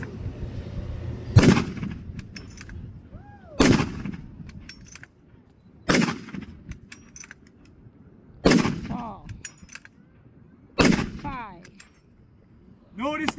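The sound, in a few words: five rounds fired from a .30-40 Krag-Jorgensen bolt-action rifle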